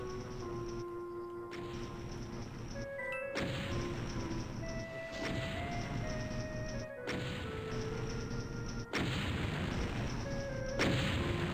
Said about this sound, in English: Sounds like there's explosions going on around here.